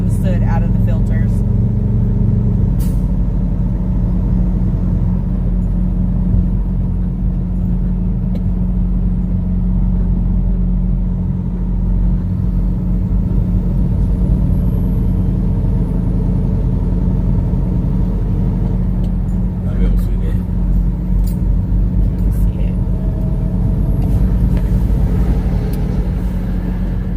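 Truck engine rumbling steadily as it drives at speed to burn soot out of its filters, a continuous low drone with road noise throughout, while people talk inside the cab.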